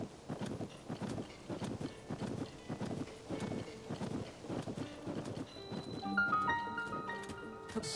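Horse hooves clip-clopping in The Legend of Zelda: Tears of the Kingdom near Snowfield Stable, a steady, fairly quiet rhythmic walking gait with soft game music chiming in toward the end.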